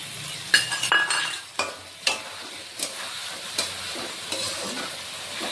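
Ground spice paste frying in a pan for a Bengali katal fish curry, a continuous near sizzle broken by repeated stirring scrapes and light clinks, no talking.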